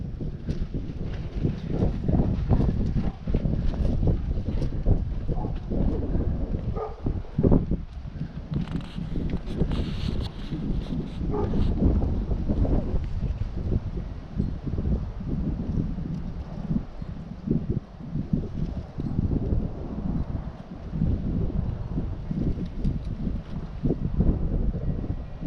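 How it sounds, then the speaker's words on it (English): Steady outdoor wind rumble buffeting the microphone, swelling into stronger gusts now and then, with faint rustling and no voices. "out of nowhere, you'll get"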